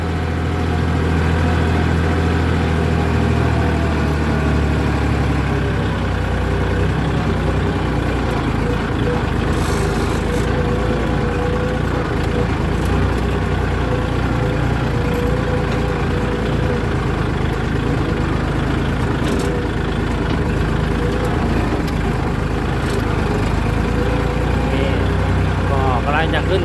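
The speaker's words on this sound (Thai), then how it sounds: "มีรถไถครับพี่น้อง" A farm tractor engine runs close by on a hillside plot, a loud, steady, continuous rumbling drone that holds without pause throughout.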